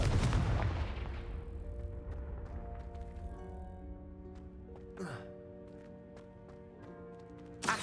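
The Confringo spell in a Hogwarts video game sets off a loud blast at the start that rumbles and fades into a ringing, tonal decay, with a short whooshing burst partway through.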